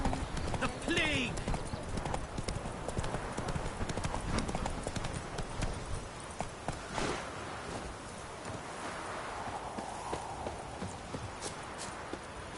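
Rhythmic hoofbeats of the horse Roach galloping in the video game The Witcher 3, a fast, steady clip-clop that stays moderately loud for the first half, then thins toward the end with faint ambience.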